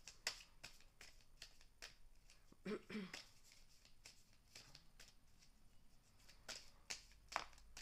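A deck of oracle cards is shuffled and cut, giving a series of sharp, close riffling snaps and slaps spread across the clip with short gaps between them and no talking.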